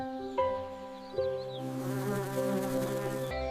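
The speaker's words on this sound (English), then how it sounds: "Bees are very important for the flowers." Continuous bee buzzing hums close by in a garden, shifting pitch a few times as it drones on steadily without pause.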